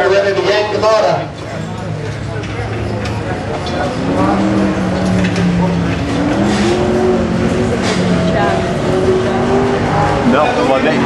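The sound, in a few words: race car driving hard around the circuit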